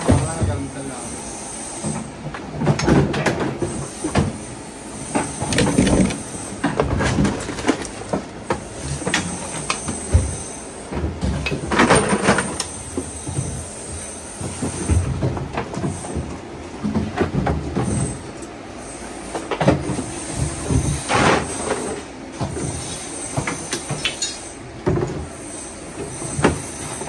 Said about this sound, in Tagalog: MRT ba yan?